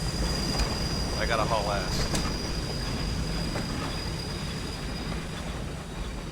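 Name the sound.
train coming to a stop, The Last Express video game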